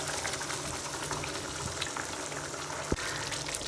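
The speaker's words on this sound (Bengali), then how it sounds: "তার জলটা আমি একটু দিয়ে এই মশলাটা ভালো করে কষিয়ে" Spice paste for a tomato curry frying in a pan with a splash of water added, a steady close sizzle and bubble throughout with one sharp knock near the end.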